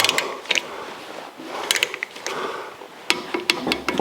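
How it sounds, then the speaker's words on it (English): Torque wrench tightening bolts to 20 foot-pounds while installing an engine and transmission into the frame of a 1982 Jeep CJ, with sharp mechanical clicks and ratcheting taps scattered over four seconds, close and moderately loud. "torque to 20 foot-pounds all the way around"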